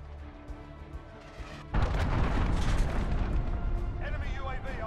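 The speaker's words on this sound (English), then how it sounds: "Enemy cruise missile incoming." A cruise missile strike in Modern Warfare multiplayer lands as a sudden loud blast partway through, followed by a sustained roaring, rumbling wash. Quieter battlefield ambience comes before it.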